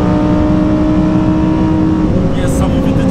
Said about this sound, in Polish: Do 8500 obrotów się ciągnie ten silnik, to jest cudowny dźwięk.